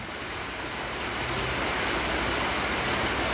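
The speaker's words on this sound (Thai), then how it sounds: "ธรรมชาติเสียงน้ำฝนลงบนแผ่นพื้นชีทเนาะ" Steady, dense rain drums on the metal sheet roof of a temple pavilion in Thailand, a constant rushing hiss that swells slightly and holds without pause, with no voices present.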